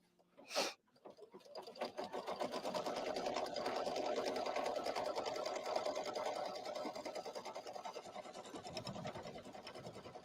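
An embroidery sewing machine stitches a line across the top of a design, with a quick mechanical clack at the start and then a steady, close, rapid needle rattle that runs without pause.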